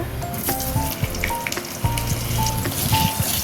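Potatoes and nigella seeds fry in mustard oil in a wok, a constant close sizzle with crackling pops and small spits throughout.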